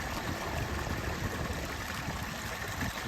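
Spring water trickling out from a rock along a Maryland hiking trail makes a soft, continuous burbling stream sound, close by and steady with no voices.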